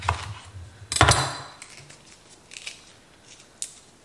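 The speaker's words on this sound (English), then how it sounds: "I had the thought while I'm chopping those peppers" Knife slicing through fresh bell peppers on a board during home food preparation, with a sharp crunchy cut near the start, a louder cluster of cuts around the one-second mark, then a few lighter clicks and taps.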